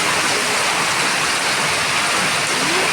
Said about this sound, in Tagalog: Kung gaano yan kalakas ng ulan.